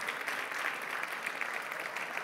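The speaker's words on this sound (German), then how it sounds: "Großen Applaus." An audience at the TÜV Austria science award ceremony applauds steadily throughout, a dense, even wash of many hands.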